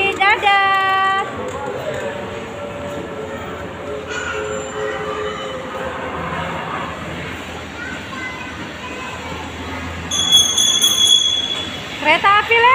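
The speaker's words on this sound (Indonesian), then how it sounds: "Kereta api lewat kakak." A train rolls past nearby with steady rumbling and rattling wheels, a horn-like tone near the start and squealing toward the end.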